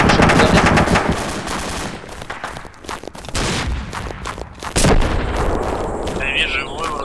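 Rapid bursts of machine gun fire in the video game ArmA 2 with the ACE mod, loud and continuous with sharp repeated cracks, a few short pauses between volleys.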